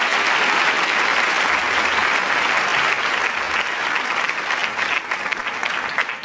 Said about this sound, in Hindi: आप सभी तालियां बजाकर उनका स्वागत कीजिए